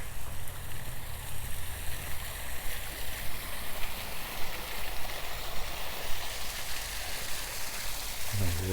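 A park waterfall pours in a steady, broadband rush that carries on evenly throughout, close and fairly loud, with no talking over it.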